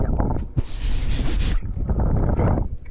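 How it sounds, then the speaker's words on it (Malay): Strong wind gusts across an open skywalk at Genting Highlands, buffeting the microphone with loud, roaring bursts that rise and fall over a few seconds. "Angin kuat betul."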